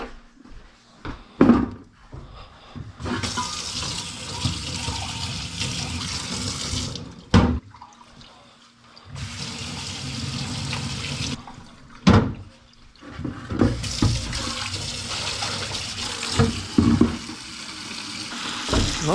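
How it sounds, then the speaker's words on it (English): Car parts from a 9th-generation Honda Civic Si being rinsed under a running tap, a steady close splashing water stream broken by a few brief pauses and clunks, with no talking. "So I'll go rinse these."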